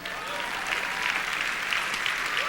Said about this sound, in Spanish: Ahora dele un aplauso al Señor.